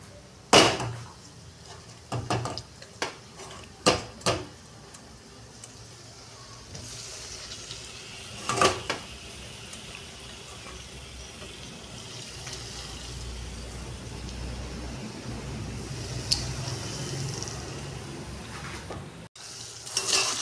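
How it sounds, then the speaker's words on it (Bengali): Marinated meat goes into a pan of cooked-down spices, with a cluster of spoon knocks and clatters at first, then a continuous moderate sizzle and occasional stirring scrapes. "এবার মাংসটা দিয়ে ভালো করে পুরো মশলাটা কষিয়ে নেব।"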